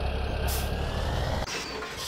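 Tractor pulling a trailer in Farming Simulator 17, a steady low engine drone with a brief hiss and a clunk partway through, heard alone without talk.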